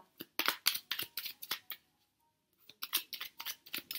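Cards in a deck riffle and slide in quick, crisp bursts, close and clear, with a short pause before a second run of shuffling.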